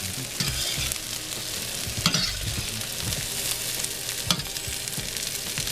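Saltfish sautéing in a pan for Jamaican ackee and saltfish, a steady close sizzle with repeated stirring scrapes and a few sharper clacks of utensil on pan, no voices.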